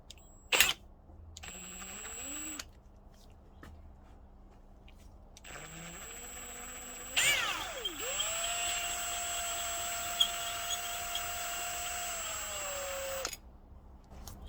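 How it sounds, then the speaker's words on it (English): Power drill running a left-hand drill bit into a seized alternator bolt on a Subaru WRX STI, in short whirring bursts that rise in pitch, then one long steady high whine that stops abruptly, close and fairly loud with no talk. "I'll try the left-hand drill bit again,"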